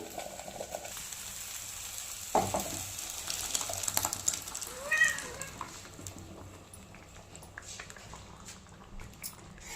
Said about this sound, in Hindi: उधर हमारे साग में बॉईल लग रहा है